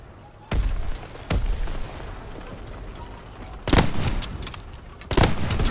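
Gunfire in a World War II sniper video game battle: four sharp, loud single shots ring out at irregular intervals over a low rumbling background, with no talk.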